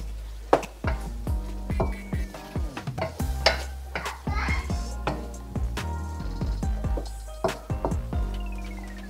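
Ground beef with green beans and corn being stirred in a pan, with a soft sizzle and repeated scraping and tapping strokes of the utensil against the pan.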